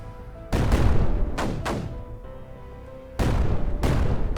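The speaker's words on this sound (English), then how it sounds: "We'd probably like to drop mortars into here." Mortars fire in the strategy game Creeper World 4, several sharp booming thuds in quick bursts, each trailing off in a brief rumble, with quieter gaps between volleys.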